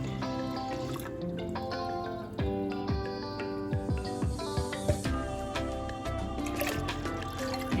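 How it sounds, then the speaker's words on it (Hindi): Water pours and splashes into a pot of split chickpeas and lentils in uneven bursts, with music playing in the background. "ये इसको ये डाल के इसमें पानी डाल दिए।"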